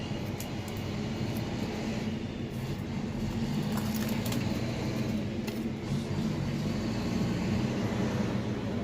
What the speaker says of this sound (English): Noisy truck over there.